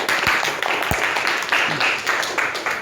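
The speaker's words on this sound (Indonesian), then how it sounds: "diberi aplaus dulu ya" A classroom of students claps in a short burst of applause after answering correctly in a lesson, dense overlapping hand claps at close range lasting the whole few seconds.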